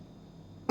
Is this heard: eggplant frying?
no